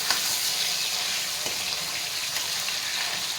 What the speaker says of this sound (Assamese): চাওক ভাজি আছোঁ